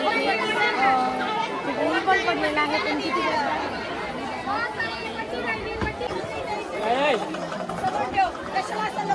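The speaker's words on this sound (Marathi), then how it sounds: "आज तुम्ही बघू शकता खूप गर्दी आहे" A dense crowd of pilgrims at the Jejuri temple, a steady hubbub of many overlapping voices and chatter filling the air nearby, with someone speaking over the throng.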